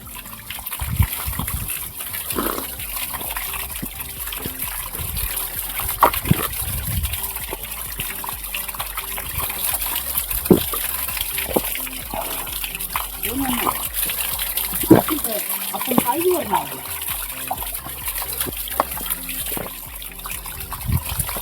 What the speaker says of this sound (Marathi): हे पाणी सरळ डोंगरावरून येत आहे